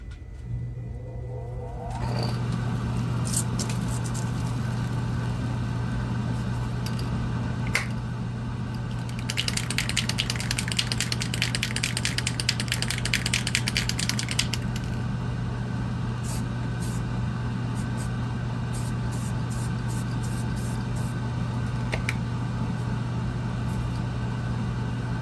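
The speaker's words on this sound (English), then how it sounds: "Let's fire up the spray booth." A steady, loud fan or blower drone starts after a couple of seconds and runs continuously, with a brief hissy burst partway through.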